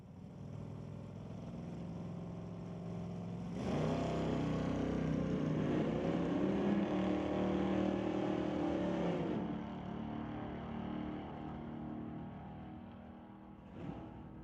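Drag racing cars launching down the strip at the Lordco ET Series race, one of them a TNT Auto Malibu: a distant engine roar surges suddenly, holds for several seconds with rising pitch, then trails off.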